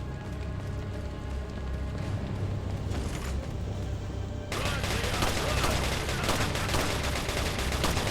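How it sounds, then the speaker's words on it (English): Gunfire in the video game Resident Evil 4 during a bridge fight against Krauser, dense rapid bursts of shots over constant game noise that grow louder and busier halfway through, no clear voices. "he's gonna shoot you from the end of the bridge"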